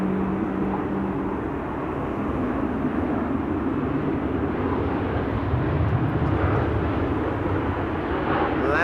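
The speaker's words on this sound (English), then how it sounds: "Dash 8, 100 from the Coast Guard" A Canadian-registered Coast Guard Dash 8-100 turboprop heading out on coastal patrol from Amsterdam Schiphol gives a steady, loud engine drone that holds evenly at close range for the whole stretch.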